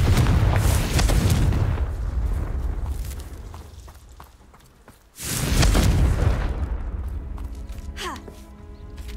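A Confringo blasting spell in the video game Hogwarts Legacy, heard as a loud, deep boom with a rumbling tail that fades out, followed a few seconds later by a second heavy explosive burst and its decaying rumble.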